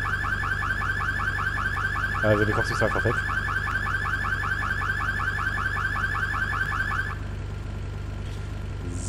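A car alarm in GTA III blares a loud, rapidly repeating warble with a short remark spoken over it, then cuts off abruptly near the end, leaving quieter background sound.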